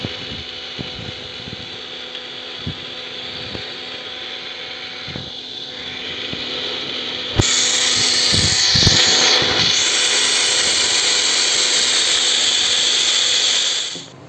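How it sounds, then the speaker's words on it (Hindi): A kitchen blender whirs through lassi with added sugar, a steady loud motor drone that jumps in pitch and intensity midway and runs alone before cutting off at the end. "शुगर भी डाल देंगे और इसको वापस ब्लेंड करेंगे।"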